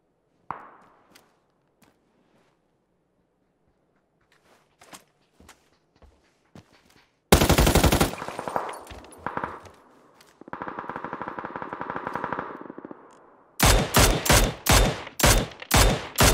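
Bursts of automatic gunfire from the battle-royale game PUBG, starting with scattered faint shots and footsteps, then a loud sustained volley, a steady rattling stretch and a final string of sharp rapid bursts.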